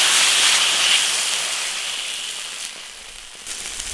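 Lamb tripe fries in hot oil with garlic and chili sauce in a large iron wok over a wood-fired stove, a loud, steady sizzle that eases off gradually.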